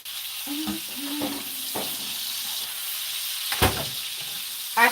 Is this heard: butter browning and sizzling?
yes